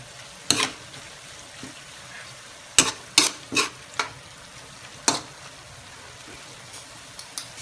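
Bopis simmers and sizzles in a pan with bay leaf added, a steady low frying hiss broken by several sharp clinks and scrapes of a utensil stirring against the pan.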